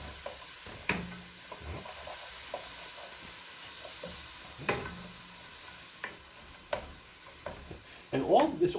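Vegetables sweat in a pot for a tomato sauce while a spoon stirs them, producing intermittent knocks and scrapes over a soft, low hiss, with a busier clatter at the end.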